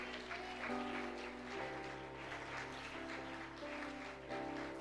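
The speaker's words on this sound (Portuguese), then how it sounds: "dá uma linda salva de palmas para o Senhor" A church congregation claps steadily and warmly over sustained music, the applause a continuous dense patter.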